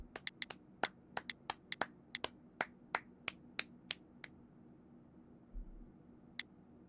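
Clapping in the mystery adventure game Staffer Case comes as a run of about sixteen sharp, crisp claps at an uneven pace, then a pause and one last clap, over a quiet hum.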